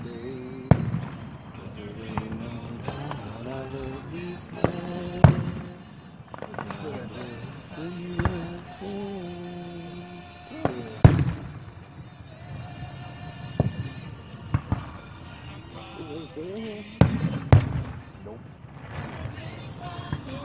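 Fourth of July fireworks in Wahoo go off in irregular sharp bangs and crackles, some near and loud, others more distant, while people chat throughout.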